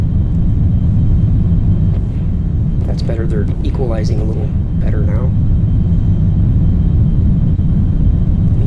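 Spacecraft engines in the Orbiter 2010 flight simulator give a steady, loud, low rumble that never lets up, while someone talks over it for a few seconds.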